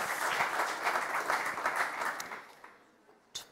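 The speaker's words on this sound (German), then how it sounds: "Gut, für einen authentischen Wahlkampf, Applaus!" Loud, dense audience applause at a comedy roast of candidates for Germany's 2021 Bundestag election, sustained for about two and a half seconds before fading, followed by a short final burst.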